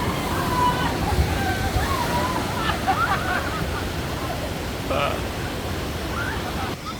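Continuous rushing, splashing water churns loudly on a theme park water ride at Disney California Adventure, with faint voices and scattered clatter mixed into the wash of noise.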